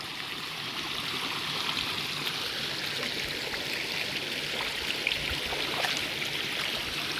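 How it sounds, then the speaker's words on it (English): A tiny river stream with slimy footing rushes and trickles steadily as someone crosses it outdoors, producing a constant close wash of flowing water with no talking. "Okay, so now I have to cross this tiny river here"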